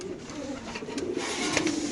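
A pair of racer pigeons offered for sale coo in low, rolling, overlapping calls, close and continuous, against a busy background hiss.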